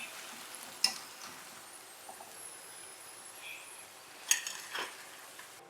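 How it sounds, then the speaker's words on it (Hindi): Cauliflower pieces frying in about two cups of oil over medium-low heat, a soft steady sizzle with a few sharp utensil clinks and stirring knocks, no talking. "अब गोभी ऑयल में डालेंगे और मीडियम टू लो आंच पे फ्राई करेंगे"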